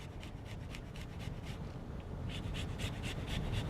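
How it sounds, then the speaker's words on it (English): Fresh ginger grated on a microplane, a soft close scratchy rasp repeating in quick strokes, quiet and continuous. "grate a little of this fresh ginger in here"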